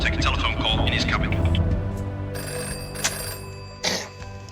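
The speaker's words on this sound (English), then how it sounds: "Within minutes, there's a phone call from the captain of the American submarine." Telephone ringing aboard a Royal Navy warship, a bright repeating electronic ring sounding close by over low shipboard machinery hum, with a short murmur of voices.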